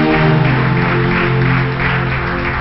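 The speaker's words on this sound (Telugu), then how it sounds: "గట్టిగా చప్పట్లు కొట్టండి" A church congregation at a Telugu Christian service claps loudly and rhythmically, the applause running under sustained droning musical tones throughout.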